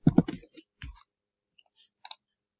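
A computer keyboard typing text into design software, with a quick flurry of close clicky keystrokes at the start, then sparse scattered taps and a final pair of clicks separated by silence.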